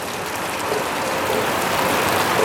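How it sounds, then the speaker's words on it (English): Steady rain somewhat heavier than a drizzle falls outdoors around a smoker cooking a hickory-smoked turkey breast, a continuous close hiss of drops with no talking. "A little more than drizzling now."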